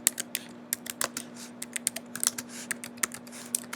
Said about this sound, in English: I'm going to type my first and last name.